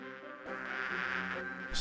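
Buzzing sweaty bees in the 1996 Discworld II adventure game, a steady insect drone with a harmonic tone that swells louder partway through, faint overall and heard alone without talk.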